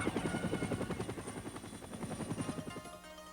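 A dust-off ambulance helicopter thuds steadily with a rapid rotor chop, its beating blades pulsing evenly throughout at moderate distance and easing slightly toward the end, with no voices.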